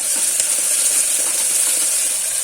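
Onions frying with a little added salt in a pan, a dense, steady close sizzle and hiss filling the short stretch with faint stirring beneath and no talk.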